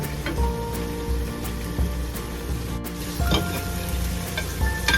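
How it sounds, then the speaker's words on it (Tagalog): Pancit bihon broth bubbling in a pot, a steady sizzling, crackling boil with occasional louder pops, close and continuous, no voices. "Hintayin lang natin kumulo ng kumulo."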